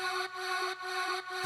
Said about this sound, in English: This one is a vocal sample.